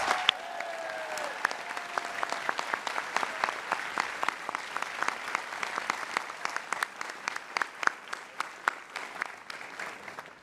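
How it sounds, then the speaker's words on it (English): A commencement crowd at Amherst College gives sustained, dense applause for honorary degree recipients, steady clapping throughout with many close individual claps. "Please join me in another round of applause for our honorary degree recipients."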